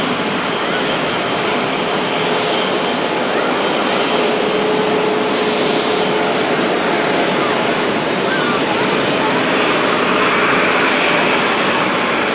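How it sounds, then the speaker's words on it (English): Singapore Airlines Airbus A380 jet heading out from Manchester Airport, a loud, steady broadband engine roar that holds without a break throughout. "Singapore Airbus A380 900 series heading back home to Singapore"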